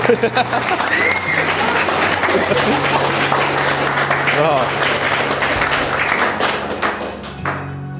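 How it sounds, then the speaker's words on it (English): Wedding guests break into sustained applause during the ceremony, dense clapping with a few thumps and taps, while voices chatter underneath before it thins out toward the end. "I think we're going to have some applause for that because they did do well."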